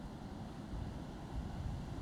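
Outdoor wind during a drone flight rumbles against the microphone as a faint, steady low buffeting with soft gusty swells, no voices present.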